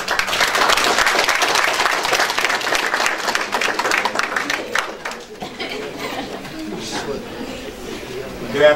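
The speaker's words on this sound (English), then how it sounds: "Alright, give him a round of applause." An audience at a community policing dialogue at Savannah State breaks into dense, steady applause for several seconds that then thins out and fades, with a voice speaking over the tail end.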